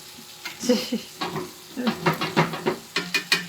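Hand-cut potato fries sizzle in hot beef tallow, with bursts of crackling and hissing that rise in short, regular pulses as the fries are stirred, close up and without talking.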